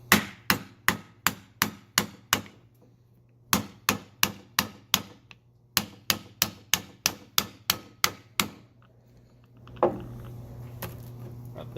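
Hammer striking an impact socket to drive a centering sleeve pin out of an E36 subframe bushing, two loud bursts of rapid sharp metallic blows, about a dozen evenly spaced hits each, close by, followed by a brief rumble.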